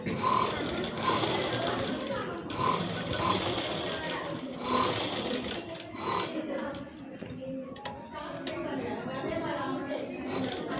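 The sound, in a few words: sewing machine stitching a neck with buckram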